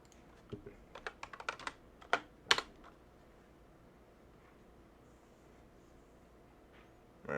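Someone types on a computer keyboard, a quick burst of clustered keystrokes near the start followed by a few separate taps, then near-quiet.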